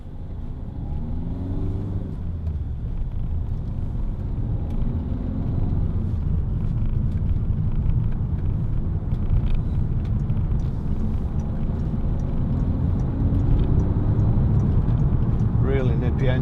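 A Peugeot 3008 1.6 HDi FAP Allure SUV's diesel engine hums with a steady low rumble and road noise while driving, its tone rising slightly at times, with a voice briefly audible early on.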